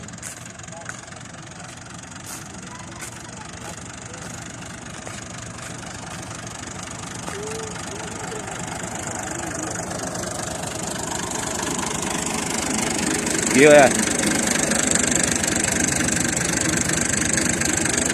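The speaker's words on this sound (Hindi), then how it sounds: "आवाज दे रहा था रोटावेटर" A tractor-driven rotavator runs in a wheat field with a possible fault, a steady mechanical engine drone with knocking undertones, moderately close, rising slightly in loudness; a brief voice cuts in near the end.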